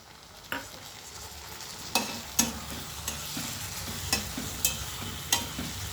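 Flat beans fry in a pan with a ground paste of coriander leaves, tomato and green chili, a soft steady sizzle broken by sharp spatula scrapes and knocks every second or so.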